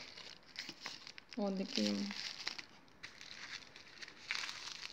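Plastic seed packets of gloxinia seeds crinkle in hand, a couple of short close rustles under soft nearby speech.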